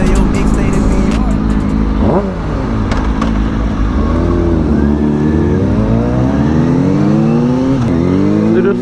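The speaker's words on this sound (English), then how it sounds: "me and Zach both have older bikes, and they have the undertail exhaust" An older motorcycle with an undertail exhaust revs loudly and close, its engine note sweeping up and down repeatedly through several throttle blips.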